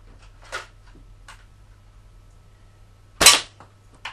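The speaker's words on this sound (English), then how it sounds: "that was a miss in my speed shooting there" An air rifle fires at steel plate targets in two sharp, separate cracks, the second much louder, with a few faint ticks between them over a low steady hum.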